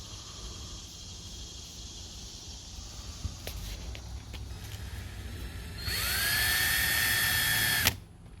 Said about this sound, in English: So first thing we got to do is drill the holes.